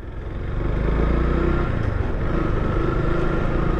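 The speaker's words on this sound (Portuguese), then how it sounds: "A gente dá uma volta e passar nessas valetas aqui, vou sentir realmente a maciez da moto." A Yamaha Crosser 150 ABS 2022 motorcycle rides over ditches, its engine droning steadily and loudly up close with a continuous low rumble and no pauses.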